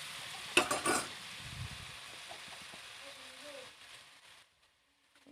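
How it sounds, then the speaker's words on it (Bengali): Garlic spoonful dropped into hot oil in a pan for tempering a sweet, sour and spicy plum pickle, with a sharp burst of sizzling and utensil clatter that fades to a softer fry, then silence. "আমি সেম পাত্রটি আবার বাগার দিচ্ছি দিয়ে দিলাম রসুন এক চামচ"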